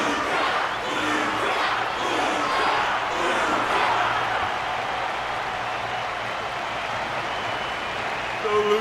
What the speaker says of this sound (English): The audience's passion stays strong. Their constant applause is a salute to this resilient Belabogian fighter.